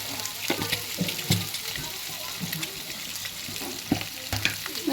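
Eggs frying in oil with turmeric and chili powder on a tawa, a quiet steady sizzle with occasional scraping clicks of stirring.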